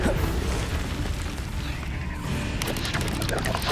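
Confringo fire spell explosion in Hogwarts Legacy, a dense booming burst with rumbling low end and crackling debris, loud and close, amid ongoing game sounds.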